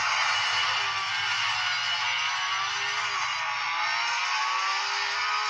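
Car engine in the racing game Real Racing, played on a Cubot Max phone, a steady high whine that rises slowly and shifts gear, loud and unbroken throughout.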